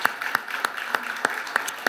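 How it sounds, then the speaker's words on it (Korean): A church congregation gives a short burst of rhythmic clapping, about seven evenly spaced sharp claps over a soft background. "새 일을 행하신 우리 주님께 한 번 더 우리 박수로 영광을 돌립시다."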